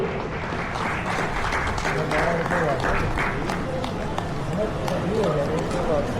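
Loud applause from an audience at a retirement felicitation ceremony, welcoming a guest, a dense, steady wash of clapping that fills the whole stretch with crowd noise mixed in.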